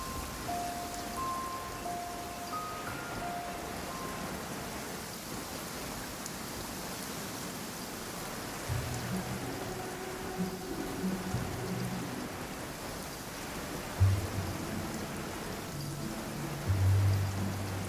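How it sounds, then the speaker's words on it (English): Rain falls steadily in the video game Genshin Impact, a dense even hiss of drops on surfaces with occasional soft game sounds underneath, constant throughout and with no voices. "Rain! I hate rain."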